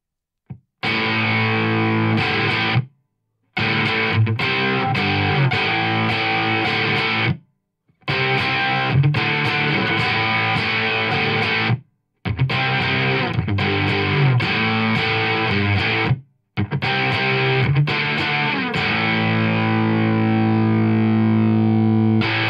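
Heavily distorted electric guitar played through a cranked Marshall Code 50 amp with metal tones, loud sustained riffs and chords in several bursts separated by short silent breaks.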